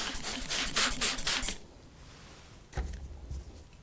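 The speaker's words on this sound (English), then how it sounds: "I'm just going to generously spray this onto my screen." Glass cleaner mixed with water sprayed from a trigger bottle onto a screenprinting screen: a quick series of hissing spritzes, close and fairly loud, then quiet with a faint bump.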